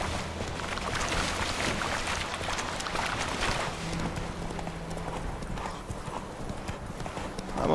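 Horse hooves clip-clop steadily along at a trot in The Witcher 3 video game, a continuous rhythmic patter mixed into a loud, hissing wind-like ambience.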